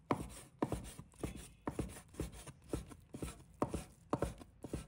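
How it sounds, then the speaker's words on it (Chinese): A knife minces radish on a chopping board in quick, regular taps, about two per second, crisp and close, with brief pauses between bursts and no talking. "再切成末，要切均匀一些"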